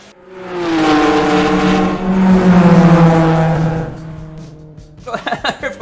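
TCR touring cars in a sim racing game, one engine revving loud and close as it climbs through the gears and fades, with another quick burst of engine sound at the end.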